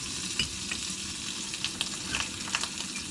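Bacon fries steadily in a camping pan, a continuous close crackle and hiss with scattered sharper pops throughout.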